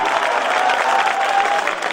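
Steady, dense applause from an audience at a Hindi-Urdu poetry recital (mushaira), a continuous crowd of clapping hands sustained evenly and fairly close throughout.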